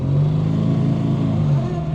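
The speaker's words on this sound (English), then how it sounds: "Oh, give it some beans, Dave." An Austin A40 Farina engine is revved hard, a loud, close, sustained droning roar that rises and then eases off slightly in pitch over a couple of seconds.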